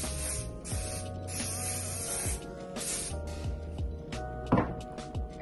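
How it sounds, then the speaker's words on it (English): Hairspray misted onto hair during flat-iron straightening, a soft continuous hiss running throughout at low level with small clicks and handling noises around it. "Spray."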